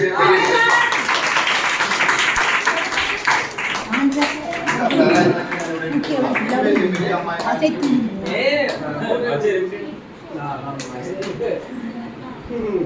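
A family clapping together at a home Onam celebration, scattered rhythmic handclaps mixed with chatter and light laughter, fairly close, with a short lull toward the end.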